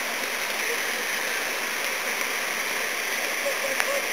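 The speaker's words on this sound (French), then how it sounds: "La cascade." A waterfall rushes in a steady, dense hiss of falling water, loud and unbroken from start to finish, with no clear talking over it.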